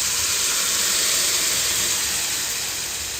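Onions frying with turmeric in a pan, a steady, bright sizzle holding evenly close up from start to finish, with no talking over it.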